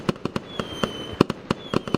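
A rapid string of sharp firework cracks and pops goes off about a dozen times in two seconds, irregular and moderately distant, with no talk over them.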